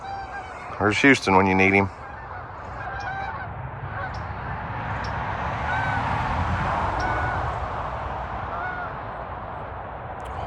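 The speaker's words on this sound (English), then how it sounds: "Whole flock of geese headed overhead." A flock of geese honks loudly in a quick burst of overlapping calls, followed by a steady outdoor rumble; someone speaks briefly.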